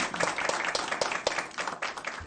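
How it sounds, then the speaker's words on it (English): An audience at a school board meeting claps in a brief burst, fairly faint and scattered, with overlapping hand claps filling the room. "let's give them a round of applause as well."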